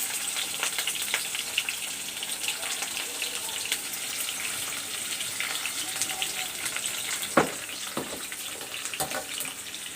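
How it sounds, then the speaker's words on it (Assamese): Onion fries in a pan with bay leaf for an Assamese recipe, making a soft continuous hiss broken by a few sharp pops and crackles, with no talking. "পিঁয়াজখন বাদামী কালাৰ কৰি ভাজি ল'ম মই ধুনীয়া কৰি।"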